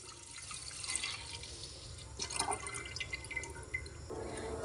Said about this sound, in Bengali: এবার একই হাঁড়িতে আমি 1 লিটার দুধ দিয়ে দিলাম।